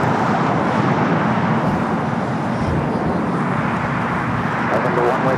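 An ITA Airways Airbus A350-900 in the Born to Be Sustainable special livery, flight 620 from Rome, arriving at Los Angeles airport: a loud, steady, broad jet roar that holds throughout.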